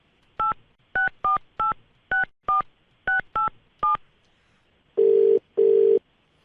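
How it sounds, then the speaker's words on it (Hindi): A telephone redialing a number: a quick run of nine crisp DTMF keypad tones, then two longer, louder tones, all alone with no talk. "अब यही नंबर रीडायल कर रहा हूँ मैं"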